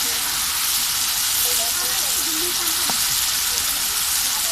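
Curry gravy sizzles and bubbles steadily as it reduces in a pan, a loud, continuous frying hiss throughout with faint stirring scrapes.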